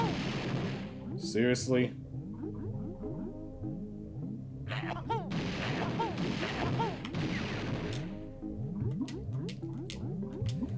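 Grenade eggs being fired in Banjo-Tooie on the Nintendo 64 produce repeated bouncy, popping thuds over busy game music and effects. A person speaks briefly.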